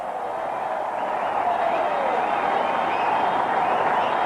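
Steady, dense applause from a large crowd at the 2003 India vs New Zealand cricket Test, sustained and even throughout with no breaks.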